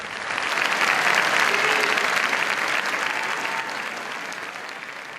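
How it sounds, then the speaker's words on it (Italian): A theatre audience breaks into long, sustained applause after an opera performance, dense and steady throughout before easing slightly toward the end. "Il pubblico, affascinato ancora una volta da quest'opera immortale, si è lasciato andare in un lungo e interminabile applauso."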